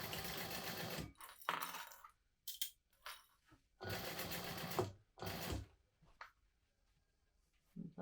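A sewing machine top stitching fabric at an eighth of an inch, running in several bursts of steady whirring, separated by pauses and small clicks.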